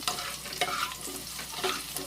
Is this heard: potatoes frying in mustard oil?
yes